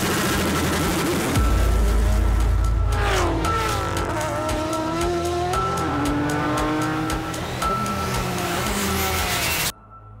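GT race cars pulling away from pit exit at the start of the Safari race, engines revving hard through rising and shifting gears with tire squeal, several cars loud and close in succession before an abrupt cut.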